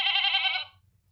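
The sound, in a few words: goat bleating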